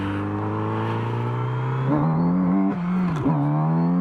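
A Kawasaki Z900RS motorcycle engine drones steadily, then its pitch climbs and wavers as it accelerates hard in third gear and the front wheel lifts, loud and close with wind noise.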